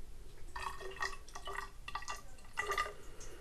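Water trickles and drips into a small glass of homemade distillate, a few short splashing pours close up and quiet over faint room hiss, with no talking.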